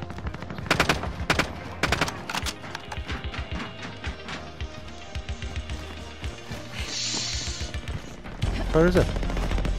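Rapid automatic gunfire and scattered single shots in Call of Duty Warzone quads, several close sharp bursts in the first half and more distant popping later, with players talking over the fire.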